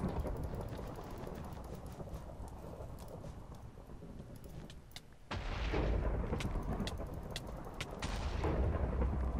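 Fireball blasts in a Minecraft Bedwars match: a steady roar of rumbling explosions with sharp cracks, briefly dipping before two louder bursts swell in near and heavy, with no talking.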